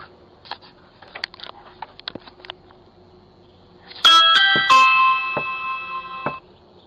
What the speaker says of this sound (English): the man climbs the stairs and rings the doorbell repeatedly